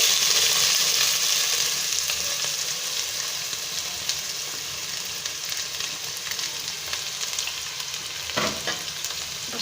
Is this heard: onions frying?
yes